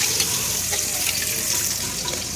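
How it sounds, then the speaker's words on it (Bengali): Fish frying in a very hot, scorched pan, a dense steady hiss and sizzle with no pauses, close and fairly loud, no voices. "মাছগুলো ভেজে নিচ্ছি।"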